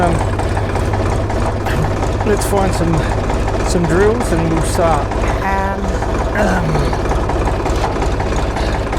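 A tractor engine idles steadily on an off-grid homestead during wind turbine installation work, a constant low rumbling drone close by, with someone talking over it throughout.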